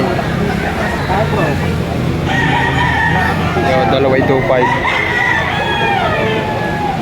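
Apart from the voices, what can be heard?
roosters crowing at a Padre Garcia, Batangas market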